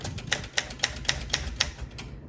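Keys striking on a 1967 Olympia SM8 manual typewriter set to stencil mode, with no ribbon impression, in a steady run of about nine crisp, close clacks with no voices.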